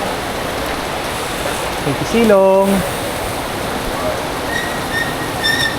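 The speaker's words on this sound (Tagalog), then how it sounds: "Ayun, ulan na naman mga master." Steady heavy rain hisses continuously around motorcycle riders taking shelter mid-ride, with a short tonal sound partway through and brief voices.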